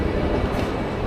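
Metro train rumbling steadily on the rails, a dense low continuous roar close by, with no talk over it.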